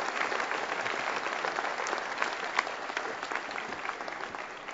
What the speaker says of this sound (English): Bring him on to the rostrum with a round of applause.